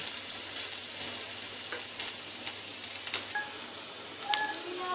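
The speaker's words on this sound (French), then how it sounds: "Et je vais rajouter un oignon haché fine. Voilà. On va laisser revenir un peu tout ça." Finely chopped onion fries in a pan with a soft, even sizzle and faint occasional stirring taps, quiet and close, with a few brief high beeps in the background.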